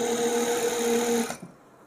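An overlock sewing machine runs steadily, stitching a round joint with a sustained motor hum, then stops abruptly and leaves near silence.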